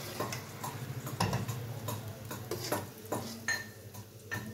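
Roasted cashews are scooped out of a pan with a metal spoon, giving a run of light clinks, taps and scrapes at an irregular ticking pace, close and fairly quiet.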